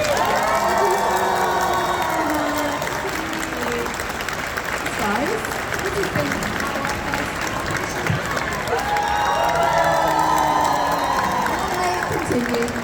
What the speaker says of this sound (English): we have one last round of applause